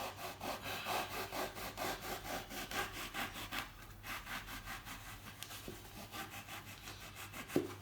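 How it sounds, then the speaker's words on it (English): Foam for a pole roller is cut with steady back-and-forth rasping strokes, quiet and close, followed by a small knock near the end. "I'm going to cut the foam down."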